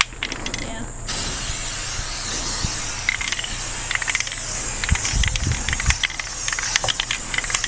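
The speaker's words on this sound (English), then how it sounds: "this can is multi-directional, so you can spray with it upside down" An aerosol spray paint can hisses in long continuous bursts while refinishing a rolling bookcase, loud and close, with small clicks and shifts as the can moves.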